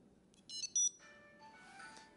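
A Tile Sport tracker sets off a phone's ringtone even with the phone on silent, giving a short melodic chime that starts with brief bright tones and then a sustained tune, fairly faint over a low room hum.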